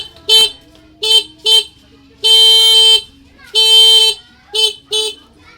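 Car horn fitted with a newly installed passing light, honking in seven sharp loud blasts of varying length, two of them long and held, close by with no talk.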